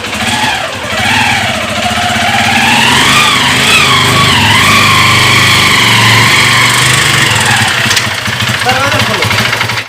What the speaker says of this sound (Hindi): ट्रैक्टर से भूसा निकाला जा रहा है